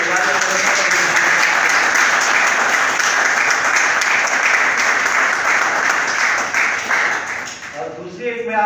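Sustained applause from an audience at a media forum gathering, dense and loud clapping filling the room, tapering slightly toward the end as a voice begins to speak.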